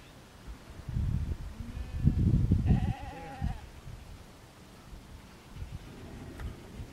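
A sheep bleats once, loud and close, during herding practice in Leona Valley, surrounded by rustling and wind-like movement noise, with a few softer thumps afterward.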